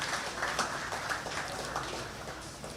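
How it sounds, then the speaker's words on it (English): A crowd at an exhibition launch claps for Prof, a steady wash of applause of moderate loudness continuing throughout without a break. "Let's give Prof a round of applause."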